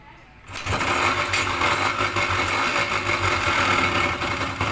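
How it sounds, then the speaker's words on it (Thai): A Yamaha DT125 motorcycle engine catches after a short quiet start and settles into a loud, steady buzzing idle close by. "ก็โอเคนะครับสตาร์ทติดแล้วถือว่าสตาร์ทไม่ยากเลยง่ายเลยนะครับ"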